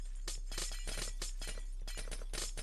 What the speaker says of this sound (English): At least I have this portable drill that insta-mines the glass.